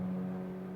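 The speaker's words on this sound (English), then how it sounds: "That's the sound of the V6," A steady race car straight-six engine hum with a strong low droning tone, idling evenly without revving, fairly close and alone, at the Sebring 24-hour race.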